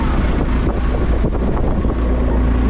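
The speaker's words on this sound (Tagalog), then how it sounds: "At ang alon ng dagat." Strong coastal wind roars and buffets steadily near the Bangui windmills in Ilocos, with sea waves surging underneath in a dense, continuous wash.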